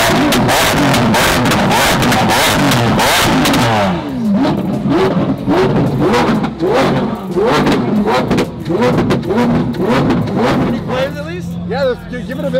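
A Lamborghini SV engine revs hard in a dense, loud burst, then gives repeated sharp throttle blips with pops and crackles, people talking close by throughout.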